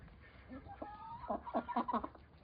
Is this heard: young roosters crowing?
yes